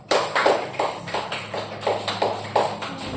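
Classroom applause follows a group presentation, sounding as a series of short, evenly spaced bursts of clapping from a small number of people. The clapping is moderately loud and heard without talk over it.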